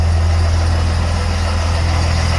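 A Ford truck fitted with a Cummins diesel engine is driven, giving a loud, steady low drone that runs unbroken throughout.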